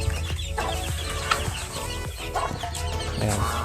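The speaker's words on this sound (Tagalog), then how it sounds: "ito ang gansa ng aking tatay" A flock of domestic geese honk and cackle continuously close by, overlapping calls forming a busy, noisy chorus with no talking.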